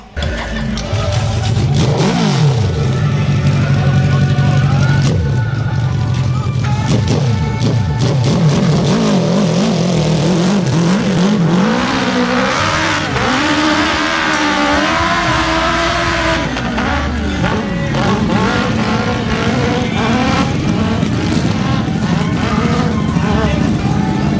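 Hill climb competition machine on a steep, near-impossible slope, its engine loud and close, revving hard and surging repeatedly in bursts with a commentator talking over it throughout.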